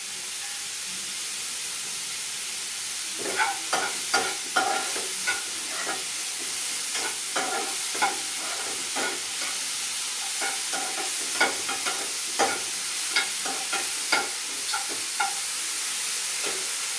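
Mushrooms frying in a pan with salt for mushroom fried rice hiss steadily while a spoon stirs them in repeated scraping, clattering strokes, close and alone.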